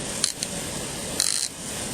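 Adjustment screw in the front of a PGP sprinkler head being turned clockwise with a key, giving two brief ratcheting clicks followed by a short burst of rapid clicking, close and fairly clear over steady background noise.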